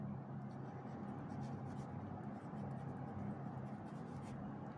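A pen scratches softly on paper during a Class 9 mathematics lesson on parallelograms. The writing is faint and continuous under a steady background hiss.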